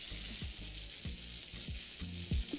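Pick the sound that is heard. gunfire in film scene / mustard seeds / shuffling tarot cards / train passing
mustard seeds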